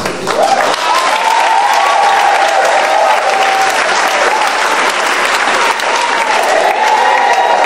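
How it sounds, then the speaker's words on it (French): Congregation applauding during a church worship service, a loud, steady wash of clapping with whoops and a sustained cheering voice riding over it, lasting the whole stretch. "On va applaudir pour la parole."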